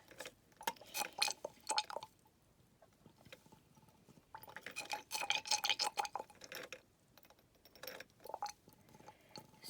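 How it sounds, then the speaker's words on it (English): Liquid solution is poured and swirled in a small lab tube, giving soft intermittent sloshing, clinks and splashy bursts in two main clusters, close and fairly quiet. "we pour it into S1 in here, and then we're going to swirl it around"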